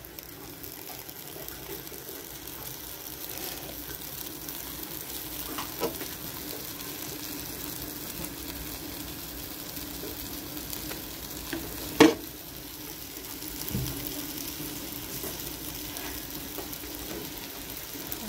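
Vegetable lo mein cooking in a pan with butter gives a faint, steady frying hiss, with a few soft clinks and one sharp knock partway through.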